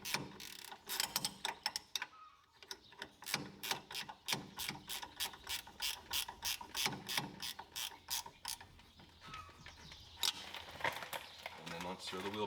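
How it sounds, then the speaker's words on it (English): A hand ratchet tightens the brake caliper bolts on a Polaris Ranger 1000, clicking in rapid even bursts of strokes with brief pauses between, close and clear. "Get both bolts started to hold the caliper on. And tighten it up."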